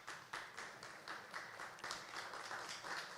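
An audience at a Buenos Aires tech conference breaks into applause, a dense, continuous patter of many hands clapping at moderate distance, rising and falling slightly in waves for a few seconds.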